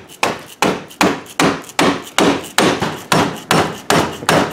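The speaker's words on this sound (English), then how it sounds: "Now use your trusty mallet." A mallet striking a car part during a twin-turbo install, about ten loud close blows in a steady, even rhythm, each with a sharp attack and short decay.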